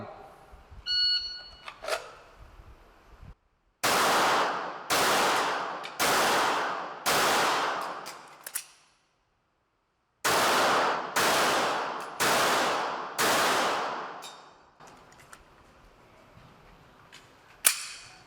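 Pistol shots fired during an FBI pistol qualification course at a shooting range: two quick strings of sharp, loud reports in steady rhythm with a pause between them, a few further shots and brief voices before and after.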